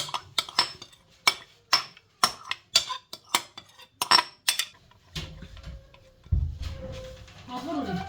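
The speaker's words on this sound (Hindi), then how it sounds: "इस सारे को अपने हिला देना है, अच्छी तरह मैरिनेट करना है।" A spoon scrapes and clinks against a bowl as yogurt is stirred into a chicken marinade for karahi, about a dozen sharp taps in an uneven rhythm, followed by softer mixing sounds and a low thud.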